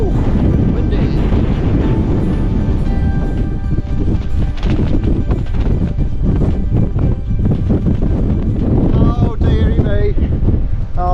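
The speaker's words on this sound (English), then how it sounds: "Ooh, windy." Loud gusting wind on a mountain summit buffets the microphone almost continuously, a heavy low roar with brief lulls, while a person speaks intermittently over it.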